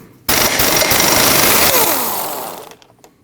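An impact tool hammers loose the 32mm rear axle nut on a 2003-2008 Subaru Forester, a loud, close, rapid rattling burst lasting over two seconds before tapering off.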